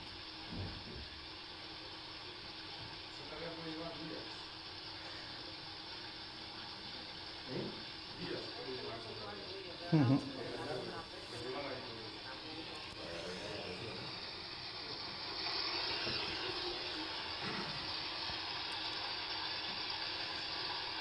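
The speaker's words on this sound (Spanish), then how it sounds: "Entonces ahora va a empezar a cerrar ya la válvula y ahora se empieza a acumular el agua. Ahora empieza a hacer ruido." Hydraulic ram pump in Togo after the waste valve closes and water accumulates inside, giving a steady hissing, rushing water noise with recurring knocks and surges, building slightly louder toward the end.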